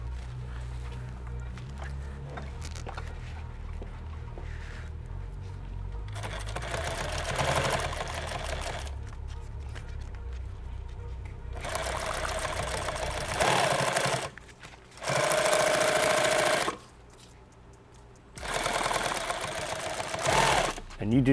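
A sewing machine tacks folded webbing onto a bag in several loud, close bursts of rapid stitching, separated by pauses where a person talks quietly.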